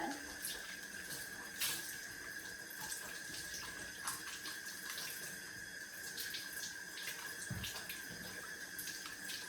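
Tap water runs steadily into a sink as a soapy hamster bowl is rinsed, a continuous splashing stream with small irregular surges, faint and alone.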